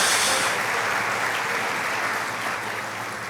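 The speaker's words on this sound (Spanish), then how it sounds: "Denle ese aplauso a Jesús." Church congregation applauding during a Spanish-language service, a sustained wash of many hands clapping that fades slightly toward the end, loud and full with no talk over it.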